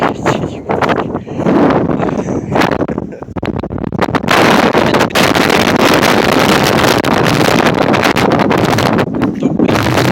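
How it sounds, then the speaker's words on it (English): Strong storm wind roars continuously and loudly into the microphone, buffeting hard with gusts that briefly ease and then surge back, over a cold, icy outdoor setting. "The wind, cold air is blowing in my face."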